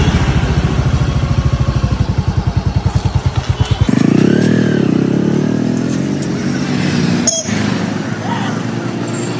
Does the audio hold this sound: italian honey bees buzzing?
no